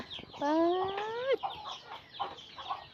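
Chickens on a rural farm cluck and call, one bird giving a loud rising squawk followed by softer scattered clucks nearby.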